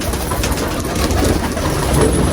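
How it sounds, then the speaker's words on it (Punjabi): Pigeons coo continuously beneath a loud, steady wash of rushing background noise. "ਮਾਸ਼ਾਅੱਲਾ ਕਿੰਨੇ ਕਬੂਤਰ ਹੋ ਗਏ ਮੇਰੇ ਕੋਲ"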